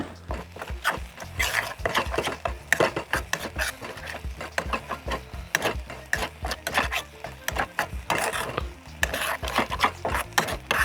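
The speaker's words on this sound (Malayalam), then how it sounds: "ഇനി അടി പിടിക്കാണ്ട് ഒന്നും കൂടെ നമുക്ക് കുറച്ച് തണുക്കുന്നത് വരെ ഒന്ന് ഇളക്കിക്കൊണ്ടിരിക്കാം." A spoon or ladle stirs and scrapes thick Kerala-style beef pickle masala in a pan off the heat, giving steady rhythmic rasping and scraping strokes with occasional clinks, close and continuous.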